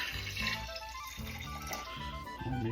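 Water runs steadily into a cooking pot of meat for beef goulash, a continuous close pouring and splashing with a faint rising fill tone, no talk over it.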